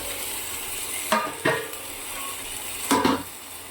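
Chicken is sautéed in a hot pan under a steady sizzle, with a few sharp metal scrapes and clanks as it is stirred.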